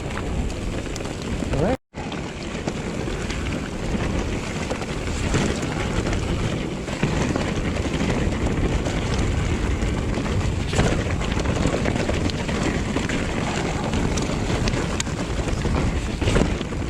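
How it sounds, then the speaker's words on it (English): Strong wind roars continuously across the microphone on a ride overlooking Swansea Bay, a dense, loud rush with only a brief dropout near the start. "It's quite windy."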